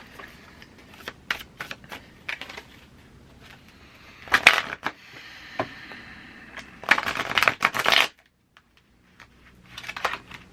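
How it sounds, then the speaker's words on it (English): Quick bursts of tarot cards riffling and snapping together, with longer shuffles near the middle and end, close and fairly loud against quiet gaps. "why did you shuffle like that?"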